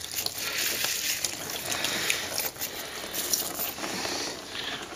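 A metal clock chain is rinsed under running water, a steady close splashing hiss that runs the whole time, joined by small rattles and clinks from the links.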